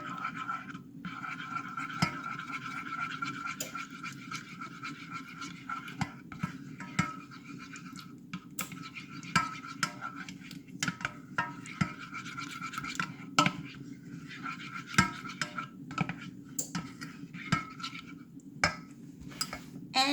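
Garlic paste mixture stirred in a bowl, a faint close scratchy scraping with small irregular ticks and clicks running steadily for about twenty seconds, no speech.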